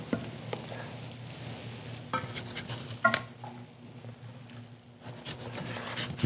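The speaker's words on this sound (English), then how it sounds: "Deglaze my pan." Stock goes into a hot pan of caramelized onions for French onion soup, sizzling and crackling up close while a utensil stirs and scrapes against the pan.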